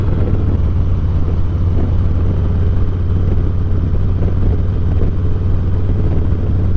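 Motorcycle engine drones steadily throughout while riding, a constant low rumble with road and wind noise, loud and close, no talking.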